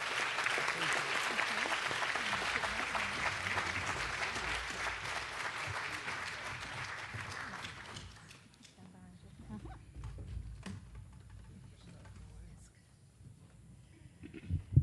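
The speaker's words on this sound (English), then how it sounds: "Human rights activists, please applaud Fred Cloud." Applause at a Tennessee Human Rights Commission 50th anniversary honoree event, a dense crowd clapping for about eight seconds before thinning into a quieter room with scattered sounds.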